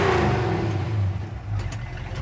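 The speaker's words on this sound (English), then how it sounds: "Good sounding dual exhaust." A 1967 Ford Mustang coupe with a factory 390 S-Code V8 and dual exhaust revs up close, its pitch sliding down into a deep, steady rumble that wavers as the throttle eases.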